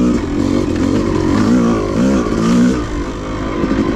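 A Yamaha YZ250 two-stroke dirt bike on a wooded off-road cycle trail, engine loud and close, revving in repeated rising surges over a steady buzzing drone, no speech.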